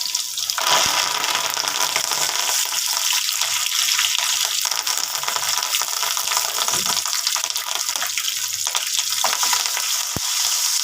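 Crushed garlic and curry leaves fry hard in oil for Andhra-style tomato pickle, a steady, close, loud sizzle with occasional stirring scrapes throughout, no voices.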